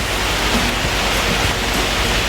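Steady rain falling outdoors around a 2017 Indian Chieftain motorcycle, a dense, even hiss that fills the whole short stretch with no talk over it.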